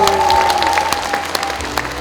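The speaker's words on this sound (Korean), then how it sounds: "다시 한번 큰 박수 부탁드리겠습니다" An audience at a political book launch event in Wonju applauds, a brisk patter of claps from a gathered crowd over a faint sustained tone.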